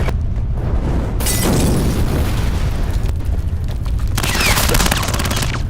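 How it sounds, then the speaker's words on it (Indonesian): A war film battle in which a Russian unit fights German tanks, with loud, dense gunfire exchanges and heavy explosions booming almost without a break, close and intense. "Adu tembakan semakin intens karena musuh yang semakin mendekat."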